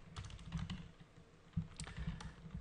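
Quiet, close typing on a computer keyboard, with irregular clusters of soft key clicks and one sharper tap partway through, heard alone without any talking.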